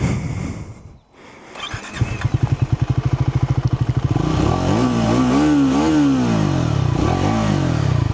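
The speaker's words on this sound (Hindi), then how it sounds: "एग्जॉस्ट नोट बाइक का बहुत प्यारा है" A Triumph Scrambler 400X motorcycle engine fires up and idles with a rapid throbbing beat, then revs up and down in several loud, close throttle blips.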